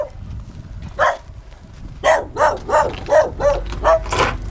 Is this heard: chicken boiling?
no